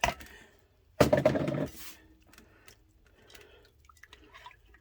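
Water being poured into a gelli plate mixture of gelatin and glycerin, a short burst of splashing liquid lasting under a second, followed by faint drips and quiet handling noises.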